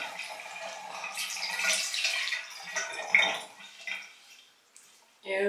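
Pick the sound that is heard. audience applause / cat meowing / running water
running water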